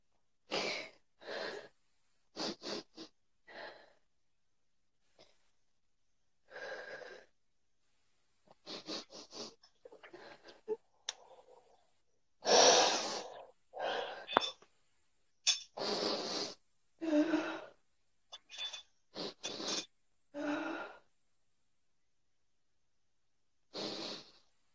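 A person in a therapy session cries and breathes heavily, with a long series of separate loud, ragged breaths, gasps and sobbing exhalations in bursts and short pauses, close up and with no talk.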